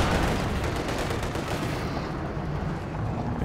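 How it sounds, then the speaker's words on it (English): Light machine gun fire in a Company of Heroes 2 battle, a loud, continuous dense rattle of rapid shots with no break, followed by a slightly softer tail. "The LMGs just bursted away."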